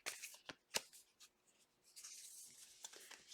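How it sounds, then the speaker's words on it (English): Tarot cards are shuffled by hand in soft, scattered riffles and slides, quiet and close, with short pauses between bursts. "Last shuffle, Spirit, sorry."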